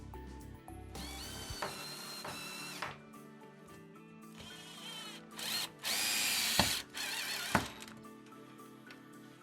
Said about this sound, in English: offer your screw up and drive that in with a cordless screwdriver